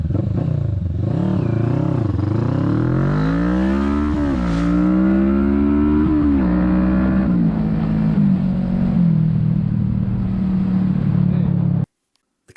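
Loud motorcycle engines, a Harley-Davidson CVO Softail 110ci and a Kawasaki Vulcan S 650, revving and climbing through the gears in a drag race, a steady roaring drone that rises in pitch, then cuts off abruptly near the end.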